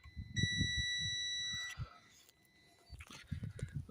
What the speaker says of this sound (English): You should get that beep.